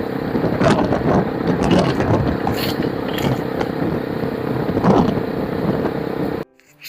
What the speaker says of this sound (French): le moyen privilégié, c'est la moto